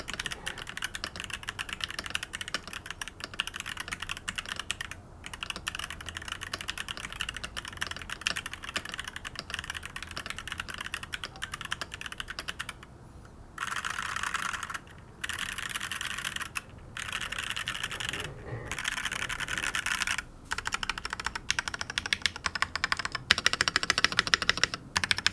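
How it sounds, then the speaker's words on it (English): Steady typing on a Shurikey Gear Hanzo EC Rose V2 non-hot-swap keyboard, a dense run of quick keystrokes heard up close with no talking. "so Dom, I've actually made you type on this for a while. This non-hot swap keyboard"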